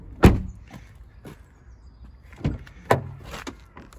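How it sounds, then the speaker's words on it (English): Electric windows and mirrors on a Citroen DS4 DStyle 1.6 Diesel operate as short motor whirs separated by a few sharp clunks and clicks, close and isolated. "Electric mirrors and windows there."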